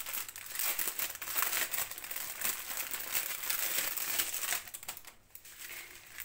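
Close, busy crinkling of a plastic bag holding a Diamond Dotz diamond painting kit, crisp rustles and crackles going on continuously before easing off near the end.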